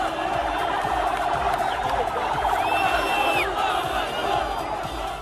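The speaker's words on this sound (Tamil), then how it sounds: "அங்கு திரண்டிருந்த மக்கள் பிணை கைதிகளை நோக்கி கையசைத்தும் ஆரவாரம் செய்தும் மகிழ்ச்சியை வெளிப்படுத்தினர்." A large crowd gathers to cheer and wave as released Israeli hostages arrive, a dense, sustained roar of many voices with whoops and shouts throughout, steady and loud from start to finish.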